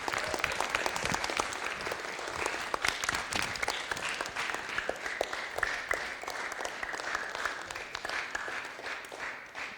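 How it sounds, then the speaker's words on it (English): Children and families applaud parents at a Fresno city council meeting, a dense, sustained burst of clapping from a roomful of people, moderately loud and even, with crisp individual claps standing out near the microphone. "give your parents a hand of applause"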